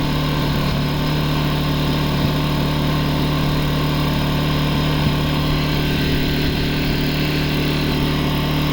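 AYERBE 1200i inverter generator idling steadily after its overload protection tripped, a constant close engine drone with a low hum and mechanical buzz, no voices.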